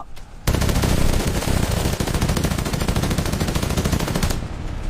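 Rapid machine-gun fire rattles in a dense, loud burst during a dacoit shootout in the Chambal ravines, following a brief quiet moment, then continuing steadily for about four seconds before tapering slightly.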